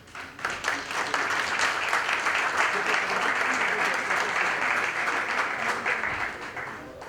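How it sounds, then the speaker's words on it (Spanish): Audience at an international nut and dried fruit conference in Mendoza applauding to welcome a speaker, sustained even clapping from a sizable crowd that swells quickly, stays level for several seconds, then tapers off. "Lo recibimos con un fuerte aplauso, por favor"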